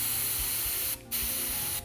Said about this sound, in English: So this is just a standard air duster.